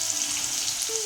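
Pieces of leftover chapati fry in hot oil with a continuous close sizzle and small popping bubbles, a brief tonal scrape near the end and no speech.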